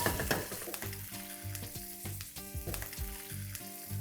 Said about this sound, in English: Time to add in cashew nuts as well and stir this till the cashew nuts get a nice golden brown color.